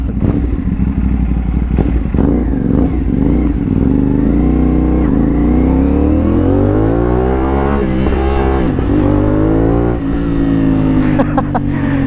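A CF Moto 450SR motorcycle fitted with a loud Akrapovic exhaust revs hard and close, its engine note rising and falling through gear shifts with steady, continuous roar.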